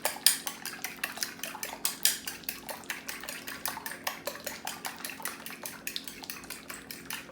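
Eggs whisked briskly in a pot for cooking, producing a steady run of rapid metallic clinks and scrapes that continue without pause, close and fairly loud with no talking.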